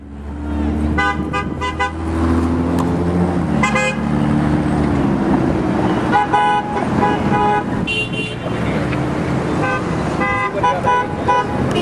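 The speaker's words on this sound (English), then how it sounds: "we're having a honk for justice for Alonzo" Car horns honk repeatedly at a street protest. Several horns of different pitches overlap in short and sustained blasts above a low traffic rumble, loud and close throughout.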